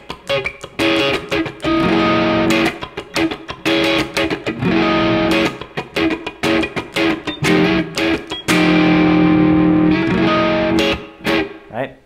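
Funk rock electric guitar solo played through effects, with distortion, choppy rhythmic bursts and sustained bright notes, loud and close throughout with brief pauses between phrases.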